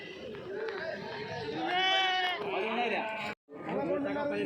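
Sheep and lambs bleat amid the chatter of a busy crowd at a Kadiri sheep and goat livestock market, one drawn-out bleat rising clearly over the voices before a brief silence.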